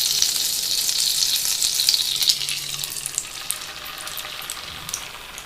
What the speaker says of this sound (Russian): В подогретую сковородку мы вливаем яйца со стакана.